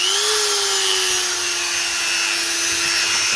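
A Dremel rotary tool carves a cut-out wooden moon shape, a loud continuous high-pitched whine holding steady throughout with a grinding hiss over it.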